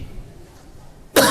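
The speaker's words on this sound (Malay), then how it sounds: "Batuk pula dah." A single sharp cough bursts out at the very end after a stretch of quiet room tone.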